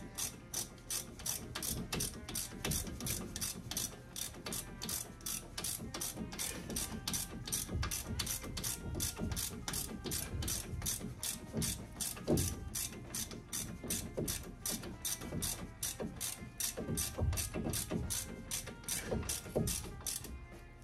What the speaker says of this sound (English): Now we're just gonna torque it.